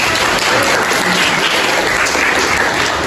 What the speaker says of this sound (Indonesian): Oke, tepuk tangan untuk Via.